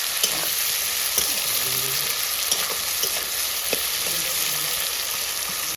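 Chicken and potatoes cooking in a pot, giving a loud continuous frying hiss with faint scattered stirring knocks underneath, close and steady throughout, no talking.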